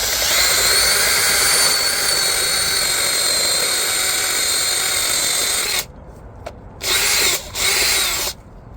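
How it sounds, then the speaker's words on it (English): A power drill on a low speed setting drives a hole-cutting blade through a retaining wall for an intake hole, giving a loud steady whine, then stopping and restarting in two short bursts with quiet gaps between. "I'm using a low speed setting on my drill here so as to not dull the blade"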